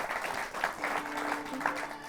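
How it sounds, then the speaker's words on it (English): A studio audience on a news and music talk program applauds in a steady, dense wash of clapping that holds at an even level throughout. "if you want to give them a round of applause for this information"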